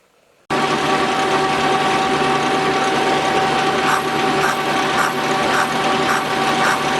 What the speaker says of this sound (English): I got a left-handed boring bar set up.